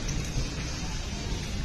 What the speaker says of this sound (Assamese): এইফালে গৰজিছে এতিয়া